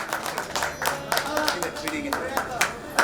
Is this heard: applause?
yes